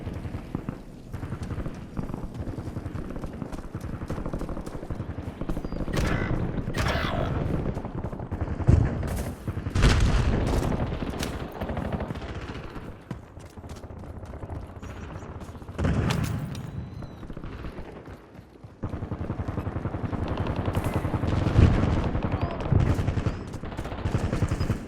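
Gunfire in the video game Warzone: rapid bursts of automatic shots and heavier booms come in repeated volleys, loud and dense, with game sounds filling the gaps between them.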